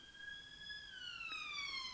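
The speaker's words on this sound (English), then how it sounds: "That's an ambulance making a noise, if you can hear the ambulance." A distant ambulance siren wails faintly, its pitch holding steady and then sliding lower, heard alone over quiet background noise.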